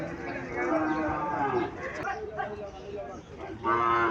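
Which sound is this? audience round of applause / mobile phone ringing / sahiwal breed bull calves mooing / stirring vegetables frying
sahiwal breed bull calves mooing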